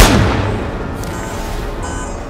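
A single loud gunshot in a movie scene, a sharp close bang that fades into a rumbling tail.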